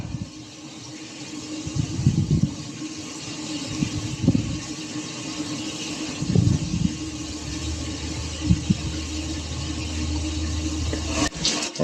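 An RV shower runs off a tankless water heater, a steady rushing water sound with low rumbling bursts and a constant hum from the heater or fan, fairly close.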